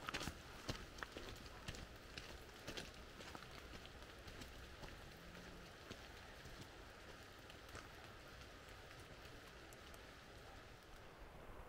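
Rain falls on a misty, foggy autumn landscape during an outdoor photography workshop, a quiet, continuous patter with brief irregular drop taps and rustles, fairly close.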